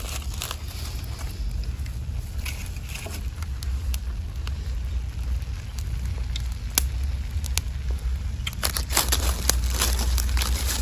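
Corn roasts in a backyard fire, giving a steady low rumble of flame with scattered crackles and pops, busier toward the end, plus some wind buffeting the microphone.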